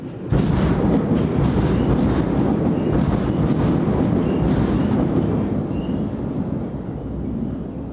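A coal train rolls over a long rail bridge across the Forth, a loud continuous rumble and roar that stays heavy throughout and eases slightly toward the end, with wind buffeting and no speech.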